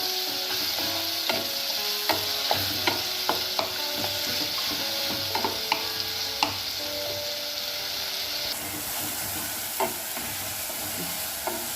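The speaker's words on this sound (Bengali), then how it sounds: "একটু নাড়াচাড়া করবো, তারপর টমেটোটা পরে দিচ্ছি।" Spices and onions frying in a pan for a Bengali New Year festive meal, stirred with a spoon: a steady close sizzle with repeated scraping and clinking strokes throughout, no talking.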